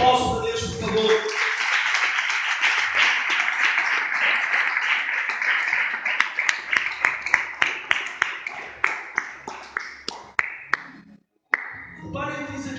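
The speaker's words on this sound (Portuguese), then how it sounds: "Aplausos para Deus, por favor." Church congregation bursting into warm, full applause that runs for several seconds, then thins into scattered individual claps that slow and fade before talk resumes.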